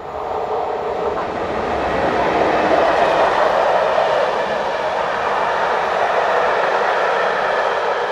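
A Czech class 150 electric locomotive hauling a passenger train rolls steadily past nearby in the Elbe valley near Usti nad Labem, a loud continuous rumble with wheel noise and a faint metallic squeal as it rounds a bend.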